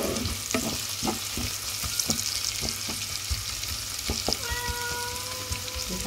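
Bacon and onion sizzle steadily in a pan, with a spoon stirring and scraping in irregular knocks over the continuous close frying hiss.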